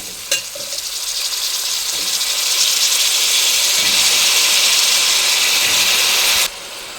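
Raw banana pieces hit a hot pan with an immediate loud hiss that holds as a steady, bright sizzle for several seconds, then cuts off sharply, with a faint stir or clink near the start.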